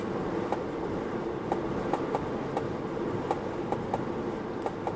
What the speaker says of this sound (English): Some speaker clicking and then a short beep.